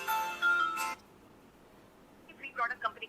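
Phone ringtone for an incoming call, a short electronic melodic tone that plays for about a second and stops, followed by a voice speaking afterward.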